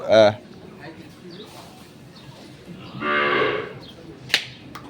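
Cattle at a Nilphamari bull farm give a short low moo at the start and a longer louder moo later, heard close amid quiet background talk and farm noise.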